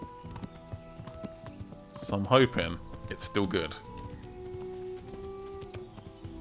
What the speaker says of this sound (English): Let's ride. I spent a lot of money on this horse.